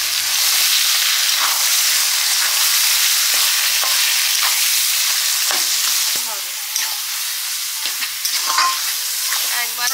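Taro greens added to fried onions in a hot pan sizzle loudly and continuously, with a dense frying hiss and scattered stirring scrapes that ease slightly near the end.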